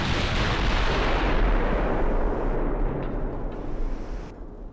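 Naval guns fire in a Dreadnoughts-era warship battle game, a dense, continuous barrage of booming shots that rolls and rumbles for several seconds, loud at first then easing slightly toward the end.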